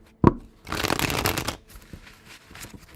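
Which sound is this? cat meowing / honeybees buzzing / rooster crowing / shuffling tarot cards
shuffling tarot cards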